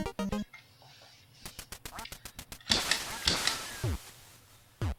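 Duck quacking in the NES game Duck Hunt: loud electronic quacks in short bursts alongside bright gunshot blasts, rapid beeping tones and a descending falling whistle.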